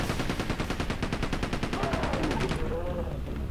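Rapid automatic gunshots in a video game, a steady fast rattle of evenly spaced shots that cuts off near the end, with a voice speaking over part of it.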